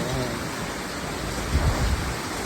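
Steady, dense rain roaring continuously during Typhoon Aghon flooding in Lucena City, Philippines, with a brief low rumble swelling near the end.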